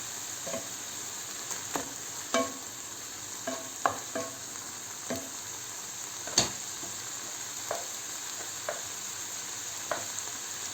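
Cauliflower sautés in a pan under a faint, steady sizzle. Separate scraping strokes from stirring recur every second or so, with one sharper knock partway through.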